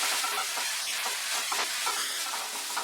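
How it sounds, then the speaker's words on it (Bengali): Shredded cabbage paratha filling with ginger paste fries in a pan, a steady bright sizzle with faint scraping from stirring running throughout, close and continuous. "সবকিছু দিয়ে মিক্স করতে করতে কিন্তু আমরা ফ্রাই করছি, আর দেখে কিন্তু নাড়তে হবে।"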